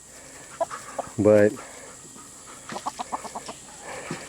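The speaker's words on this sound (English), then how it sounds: "one of the juvenile hens has joined up here" Backyard hens, a juvenile hen among them, give one loud squawking call followed by a quick run of short clucks, while a person talks nearby.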